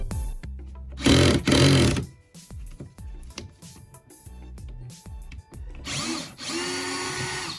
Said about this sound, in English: I was the one using the drill